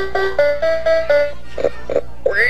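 Electronic farm animal calls play from a toy matching game, one after another: a sustained tonal bleat-like call, then short grunting oinks, ending with a rising squeal, fairly loud and close.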